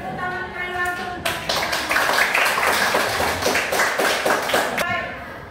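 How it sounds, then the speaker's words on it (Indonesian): Students clap together in a classroom, a dense burst of hand claps rising suddenly and holding steady for several seconds before stopping, with a voice audible before and after. "Tepuk tangan kalian langsung untuk"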